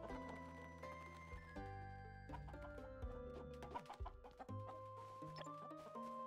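Chickens cluck on a farm in the video game Eastward: Octopia, with short repeated clucks and calls layered over a continuous bed of game music, moderately quiet throughout.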